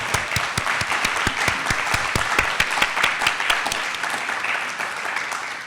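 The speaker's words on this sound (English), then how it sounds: "You've already given her applause, but maybe one more round." An audience at a 50th anniversary celebration gala applauds, a dense, steady round of clapping from many hands that fills the whole stretch at even loudness, with no talk over it.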